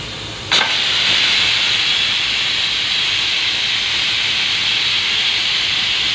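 A pressure cooker vents steam in a loud, steady hiss that begins with a sharp burst and then holds constant and close, with no talk over it.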